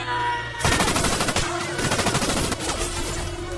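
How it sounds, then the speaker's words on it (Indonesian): A loud machine gun burst from an action film, rapid rattling shots starting abruptly and hammering on for about three seconds over music or background score. "Luke tiba-tiba muncul dan langsung memberondongkan peluru ke arah Red."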